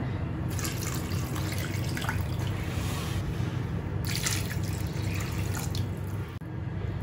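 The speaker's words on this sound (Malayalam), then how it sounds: "ഇനി ഇതിലേക്ക് ആവശ്യത്തിനുള്ള വെള്ളം ഒഴിച്ചു കൊടുക്കാം" Water is poured into a pan over pieces of fish for a Kerala-style fish curry, a steady close splashing stream with brief surges, continuing without talk.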